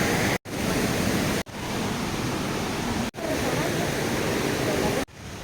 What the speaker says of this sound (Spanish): Obviamente allá podemos ver la mini cascada